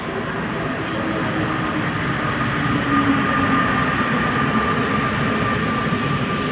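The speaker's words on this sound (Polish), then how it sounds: "Aktualnie jedzie pociąg Wybrzeże." Passenger train Wybrzeże passing through Warszawa Zachodnia station on a frosty day, a loud continuous roll of railcars with sustained high-pitched wheel squeal and faint clickety-clack, steady throughout with no speech.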